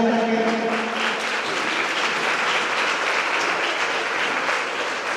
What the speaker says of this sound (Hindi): तालियां तब तक चलनी चाहिए जब तक सर मंच पर सुशोभित नहीं हो जाते हैं